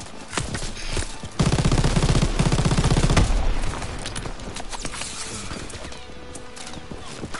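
A burst of rapid machine gun fire in the World War II shooter game Call of Duty: WWII on Veteran difficulty, loud and dense for about two seconds, amid ongoing battlefield noise and scattered shots.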